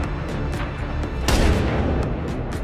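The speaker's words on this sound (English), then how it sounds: "FBI snipers opened fire immediately." Sniper gunfire erupts in a film scene, with one heavy booming shot standing out over a dense, rumbling background of repeated softer reports.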